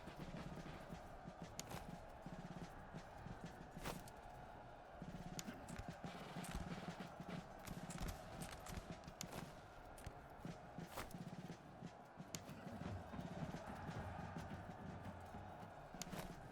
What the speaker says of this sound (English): So let's send in our horse militia.